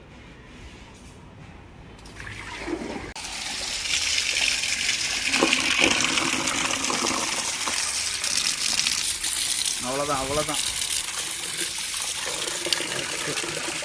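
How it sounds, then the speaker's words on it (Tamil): Water gushing and pouring out of a home fish tank holding river-caught fish, a steady broadband splash that swells after a quiet start and continues loudly, with a brief voice speaking partway through. "இந்த தண்ணியை ஊற்றிட்டு வேறு தண்ணி தான் மாற்றணும்"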